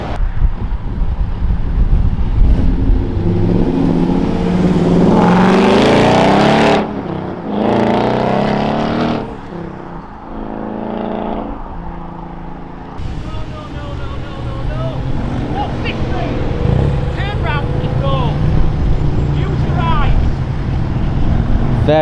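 Modified cars pulling away from a New Year's Day car meet at The Motorist as police close the road: loud engines revving and passing close by, with heavy wind buffeting the microphone and people talking throughout.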